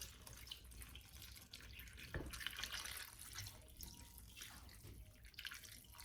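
Milk is poured into a pot of bacon and potato soup in a slow cooker, a soft continuous liquid trickle with faint splashes, fairly quiet and close.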